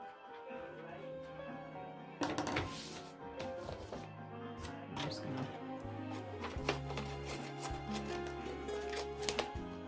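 Paper is trimmed along the edge of a thrift store frame, with a run of crisp snipping and scraping cuts, some sharp and close, coming in irregular bursts over a quiet room.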